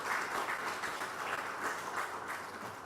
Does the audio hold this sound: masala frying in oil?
no